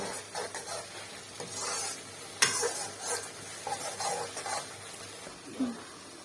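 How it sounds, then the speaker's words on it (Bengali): Hilsa with mustard being stirred and fried in a pan, a soft continuous sizzle under scraping, stirring strokes and a sharp clink of the utensil against the pan, close and moderately quiet. "কিছুক্ষণ আমি একটু নাড়াচাড়া দিচ্ছি, খুব অল্প আছে আমি ভাজা ভাজা করব"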